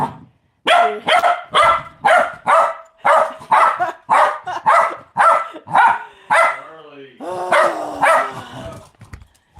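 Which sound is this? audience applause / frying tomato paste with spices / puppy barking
puppy barking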